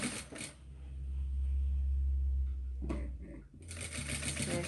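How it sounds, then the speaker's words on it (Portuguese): A sewing machine runs a seam on a hooded baby towel, giving a low steady motor whir through the middle, framed by brief rattling clicks at start and end. "vou terminar minha costura até chegar no ponto onde eu já havia começado"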